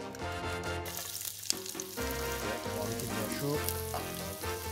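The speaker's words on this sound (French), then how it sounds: "nous allons rousser les épices" Spices frying in hot oil in a heated pot, a dense and steady sizzle that continues throughout at moderate volume.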